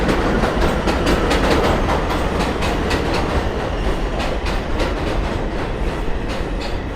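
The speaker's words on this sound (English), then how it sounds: "Here's one pulling in, a Manhattan-bound 4 train." A Manhattan-bound 4 subway train pulls into a station at Jerome Avenue and Fordham Road in the Bronx, rumbling close by with rhythmic clickety-clack of wheels over rail joints, loud and continuous throughout.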